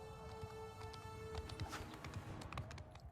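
Cavalry horses gallop through a battle in Mount & Blade II: Bannerlord, their hooves thudding quietly and irregularly under a droning battle ambience with scattered clatter.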